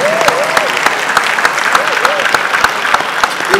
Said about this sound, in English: Why are you clapping for her like this now?